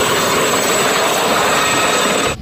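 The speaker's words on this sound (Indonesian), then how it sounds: "Rupanya ada helikopter berwarna hitam. Coba kita nyalakan." A black helicopter in a video game spins up and lifts off, a loud, dense rotor and turbine roar filling the whole stretch before cutting off abruptly at the end.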